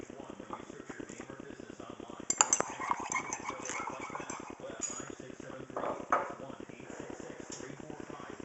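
Light glass clinks and taps from homemade perfume being mixed in a small glass container, brief clustered clinks over a steady low buzzing background.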